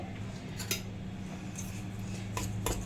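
A spoon mixes a thick chana dal fritter batter with black cumin in a bowl, making soft close squelches and a few light clinks of the spoon against the bowl, no talking.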